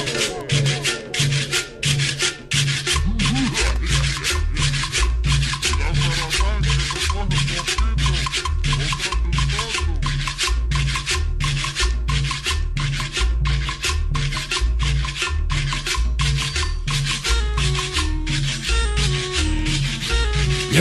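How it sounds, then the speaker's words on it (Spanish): Guacharaca scraper keeping a steady rasping rhythm in a loud cumbia-style track, its scratchy strokes repeating evenly over heavy bass and other instruments, with no voices. "Hoy nomás como empieza la guacharaca."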